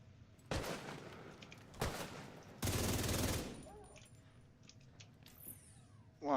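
Sniper gunfire in The Division 2 video game: a few loud, sharp blasts with noisy tails, spaced over several seconds, with quieter game sounds in between.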